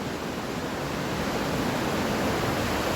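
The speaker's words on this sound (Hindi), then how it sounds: "पीछे गंगा नदी बहती है, जिसका आवाज आप लोगों को सुनाई दे रहा होगा।" The Ganges river flows behind the Pilot Baba temple in Uttarakhand, a loud, unbroken roar of rushing water filling the whole stretch.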